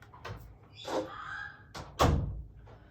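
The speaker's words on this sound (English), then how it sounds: "Sorry, I had to shut the door." An indoor door is pulled shut with a single solid thud, while a pet bird named Stella squawks and caws loudly in short bursts before and around the slam.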